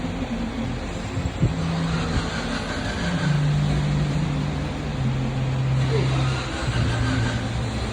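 Steady engine hum and road noise from a Honda Jazz Hybrid on a test drive after lower arm and alignment work, a continuous low drone with a faint rising tone partway through.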